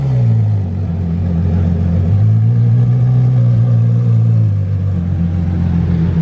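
A car fitted with an IPE exhaust idles and rumbles deep and close on a street in Monaco, the low drone steady with a slight rise in pitch midway, no voices over it.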